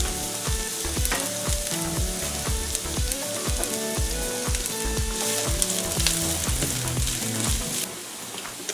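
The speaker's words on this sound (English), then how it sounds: "Now that the oil had some time to heat up, we're going to add our large onion." A large onion frying in hot oil for rice, a loud close steady sizzle with the rhythmic scrape and tap of a utensil stirring the pan underneath.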